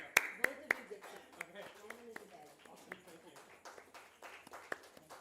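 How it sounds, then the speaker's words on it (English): A few sharp claps from a small webinar audience land near the start, then sparse clapping trails under people talking. "A big round of applause, please."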